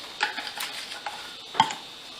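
A spoon stirs chili with chili powder inside a pot, giving soft scraping swirls and light metallic taps, with a sharper clink near the end and no talking.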